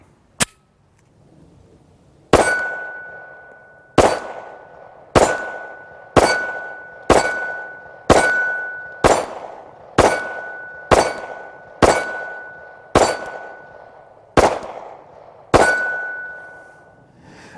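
About fourteen loud, sharp 9mm shots ring out from a Hellcat handgun on a range. A single early shot is followed by a steady, evenly spaced string, each crack leaving a brief metallic ring.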